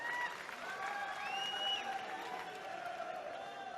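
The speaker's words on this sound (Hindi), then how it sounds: "अरे ताली जरा जोर से ठोको" A political rally crowd claps steadily at moderate distance, a dense continuous patter of applause with a few voices calling out over it.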